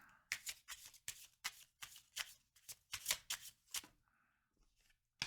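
Fortune cards being shuffled by hand: a quick run of crisp riffling bursts, close and fairly loud, then a short pause and a soft final flick, with no talking.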